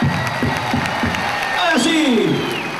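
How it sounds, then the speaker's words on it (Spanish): Concert crowd at an outdoor show applauding and cheering, with whoops and shouts rising in a steady, dense roar that swells slightly; a loud whistle-like sweep cuts through near the end. "¡Más fuerte los aplausos, ya que no se escucha nada!"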